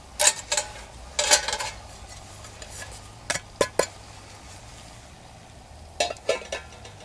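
An alcohol camping stove and metal pot being set down and fitted together, with scattered metallic clinks and knocks in short clusters amid quiet pauses, close by.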